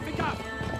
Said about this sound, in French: Regarde comme il se manie bien en plus le cheval